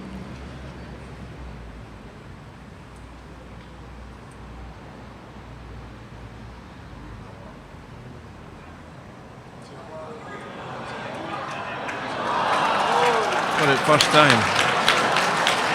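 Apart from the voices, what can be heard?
spectators applauding at lawn bowls final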